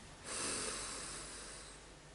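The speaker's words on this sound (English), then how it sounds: "Let's just get a couple of deep breaths in." A single long, slow breath drawn in and released, soft and airy, close to the microphone with no talk over it.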